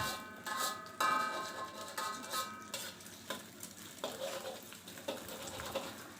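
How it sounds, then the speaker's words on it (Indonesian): Beaten eggs are scrambled and fried in a little hot oil: a soft, steady sizzle with repeated spatula stirring and scraping strokes, fairly faint and close throughout. "saya panaskan sedikit minyak, lalu saya masukkan telur yang sudah dikocok, lalu kita orak-arik hingga telurnya matang"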